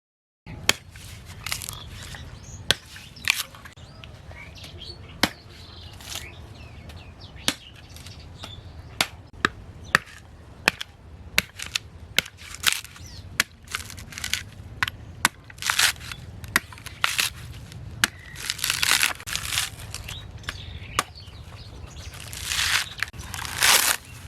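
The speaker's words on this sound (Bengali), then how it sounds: "তাই নারকেলটা ছুলে নিচ্ছি।" Coconut husk being peeled by hand for shrimp pitha in a village kitchen, a long run of sharp, irregular cracking and tearing snaps, close and crisp, with short pauses between pulls and no talking.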